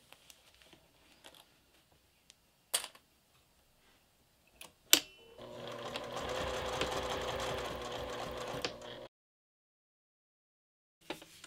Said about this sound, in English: Right now, I'm just going to stitch from here to here.